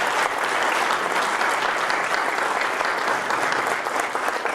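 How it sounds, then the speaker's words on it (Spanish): Warm, dense audience applause at a political commemoration ceremony, loud continuous clapping sustained evenly throughout with no voices over it. "para quien les pido le tributemos calurosos aplausos"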